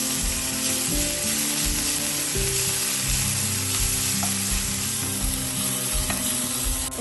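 Garlic and ginger paste sizzling steadily in a hot pan, a continuous close, dense crackle with occasional stirring scrapes, no voices.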